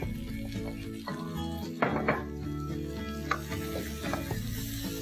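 Fenugreek leaves, tomatoes, onion, ginger and garlic fry in oil for an aloo methi mixed vegetable dish, a constant sizzle with stirring and pan scrapes in a few louder bursts, close and continuous.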